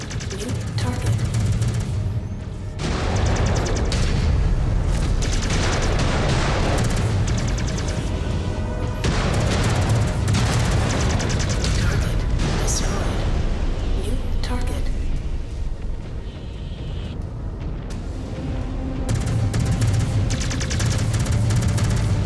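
Mech weapons fire and explosions in MechWarrior 5: Clans, heavy repeated booms and bursts of gunfire pounding almost continuously and loud, with a person talking in places.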